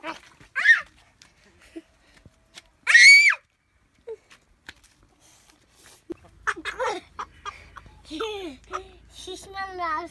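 A chicken being handled by children lets out two sharp, loud squawks in an otherwise quiet space, followed by children talking over further bird cries.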